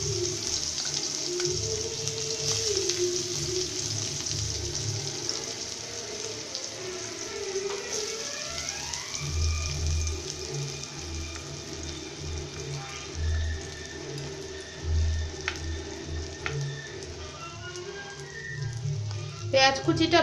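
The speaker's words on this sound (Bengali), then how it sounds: "পেঁয়াজ কুচিটা ভাজা হলে তারপরে আবার আমরা আসছি" Chopped onion and a little chopped garlic fry in oil left over from frying fish for a Bhola fish curry. A soft, steady sizzle plays quietly under background tones.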